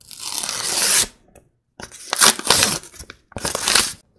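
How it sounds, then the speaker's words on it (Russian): Paper surprise packets tearing open in three loud, crackly bursts separated by brief pauses, close up with no talking. "Открываем пакетик."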